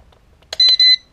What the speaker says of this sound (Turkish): Bir bip sesi ve burada pass diyor.